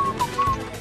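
A performer's brief high whistle during an acrobatic act in Beijing, a few short clear piping notes in quick succession over a low background murmur.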